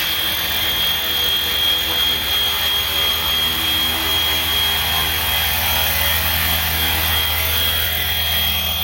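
An RC 3D helicopter lands automatically, its rotor and motor giving a continuous loud whine with a steady high tone, close by and unbroken throughout.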